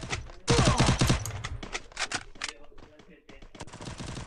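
Rapid bursts of video game gunfire crackle loudly, with one dense volley followed by scattered shots, while players talk over the action.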